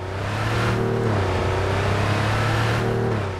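A car in Cyberpunk 2077 drives with a loud, close engine hum that rises and dips in pitch as it accelerates and shifts, steady and alone the whole time.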